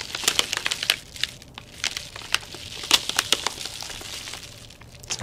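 A bubble-wrap mailer envelope is bent and squeezed up close, giving irregular crinkly crackles and sharp little pops in quick bursts, with no talking.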